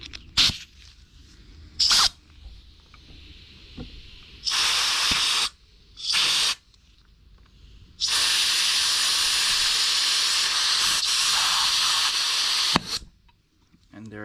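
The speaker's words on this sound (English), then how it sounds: "I want to push out that piston, and I'm going to try to use compressed air" Loud bursts of compressed air hissing into a brake caliper to force out its piston: several short blasts, then one long sustained rush ending abruptly, with quiet gaps between.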